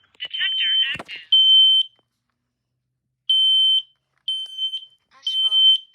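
Smoke alarm being tested indoors; loud piercing high-pitched beeps sound in short bursts with gaps, interleaved with a synthetic voice announcement near the start and end.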